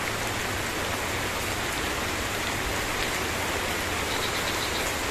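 Steady outdoor rain pours beside village houses, a dense, even hiss of drops on surfaces that holds constant and fairly loud throughout, with no voices.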